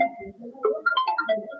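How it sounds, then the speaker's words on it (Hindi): A mobile phone rings with a melodic ringtone of short, bright, tuneful notes in a quick phrase. It plays loudly, with no voices over it. "ये किसका फोन आ गया?"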